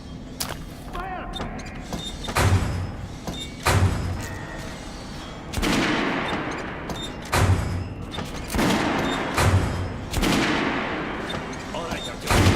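Guns fire on a shooting range in Metro Last Light, including a Kalash rifle, loud bursts of gunshots with heavy thumps coming in spaced clusters every couple of seconds, with someone talking between them.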